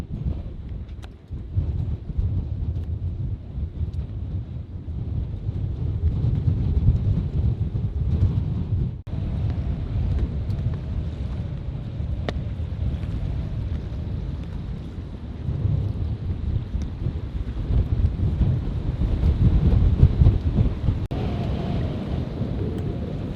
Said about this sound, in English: the wind is due to pick up, so it's time to head back